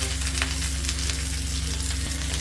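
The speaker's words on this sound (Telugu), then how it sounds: "ఈ ఉల్లిపాయ ముక్కల్ని 1 నిమిషం ఫ్రై చేసేసుకోవాలి" Onion pieces and leafy greens frying over a medium flame, a steady crackling sizzle over a constant low hum from the stove or kitchen, close and without talk.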